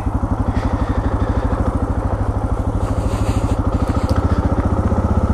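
A Suzuki DR dual-sport motorcycle engine runs during a ride, with a steady low pulsing thump at an even rhythm, close and prominent, while faint wind sits behind it.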